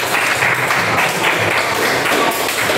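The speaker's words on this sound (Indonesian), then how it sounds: "Beri tepuk tangan yang meriah untuk kelompok." Lively applause for a group in a classroom session, a loud, continuous patter of many hands clapping close by with no pauses.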